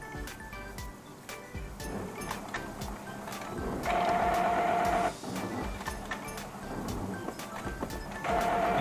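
A Brother DCP-T720DW inkjet printer running a head-cleaning cycle, close by and fairly quiet, with mechanical clicks, whirring and shuttling passes, and bursts of a steady motor whine.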